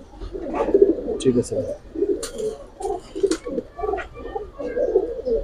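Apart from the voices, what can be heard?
pigeons cooing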